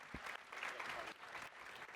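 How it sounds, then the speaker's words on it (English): A conference audience applauds its panel at the afternoon wrap-up of DDD Perth 2024, steady, dense clapping from a large crowd, close and sustained for the whole two seconds. "Huge round of applause to our panel."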